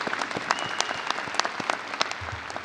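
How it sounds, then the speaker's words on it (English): Applause for veterans in the audience at a University of North Texas fall commencement ceremony, a broad crowd clapping in a large hall, steady with a few sharper nearby claps standing out. "So a round of applause for the veterans in our audience."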